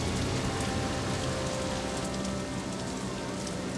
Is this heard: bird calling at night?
no